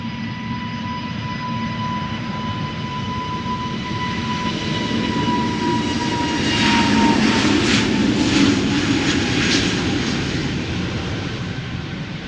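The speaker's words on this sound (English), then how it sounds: "A320neo time, flight 556 of SAS with destination Stockholm. Ready to go?" SAS Airbus A320neo, six years old, departing for Stockholm, a jet engine roar with a steady high whine that swells louder midway with rumbling bursts, then eases slightly.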